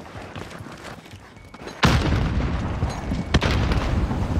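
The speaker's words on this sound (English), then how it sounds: "And a grenade." Grenade blast in the Call of Duty shooter game, a single loud, sudden boom midway that follows a quieter stretch and leaves a rumbling tail.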